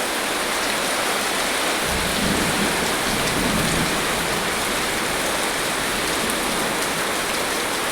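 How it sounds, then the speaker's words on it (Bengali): Torrential rain pours down in a steady, loud, dense hiss during a dark storm with strong wind, and a low rumble of thunder swells briefly in the middle; no voices. "প্রচণ্ড বৃষ্টি হচ্ছে, প্রচণ্ড মুষলধারে বৃষ্টি।"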